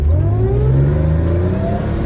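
An Audi S6 engine revs hard, a loud, close, continuous roar with rising and falling pitch as the engine climbs through the revs.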